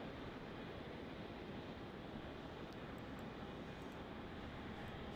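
A Boeing 787 airliner landing on runway 34 at Melbourne Airport, Australia, a steady broad engine roar that holds at even loudness throughout, continuous with no voices.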